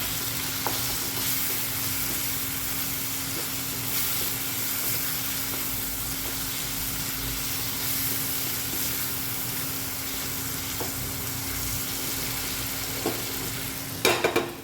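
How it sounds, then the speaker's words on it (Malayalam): Pork curry with green chillies and pepper powder cooking in a pan, a continuous even sizzle and hiss with a few faint stirring scrapes and a clatter near the end, close up and without talk. "ഇളക്കി കൊടുക്കാം."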